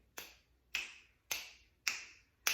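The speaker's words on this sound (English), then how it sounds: "We can snap, click." Five crisp finger snaps spaced evenly about half a second apart, close and clean against a quiet background, no voices.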